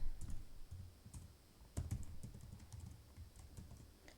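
Typing on a computer keyboard: quiet, irregular keystrokes tapping steadily throughout, with one sharper key hit partway through and a low background hum, no voices.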